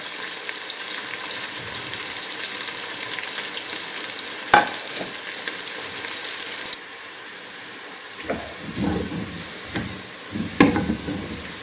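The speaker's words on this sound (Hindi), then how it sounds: "और प्याज को फ्राई करेंगे। तब तक फ्राई करेंगे जब तक हल्का ब्राउन ना हो जाए।" Onions frying in a pan for Lahori chana masala, a steady sizzle running throughout with a few sharp clinks and stirring scrapes near the end.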